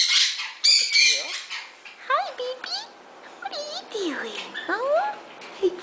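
A pet bird squawks and chirps in short, shrill bursts close by, with sliding whistle-like calls scattered irregularly, while a person talks softly in between.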